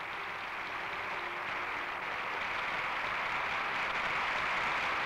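Long, lively applause from an audience of writers greeting Romania's party and state leaders in 1968, a dense steady wash of clapping that holds without pause.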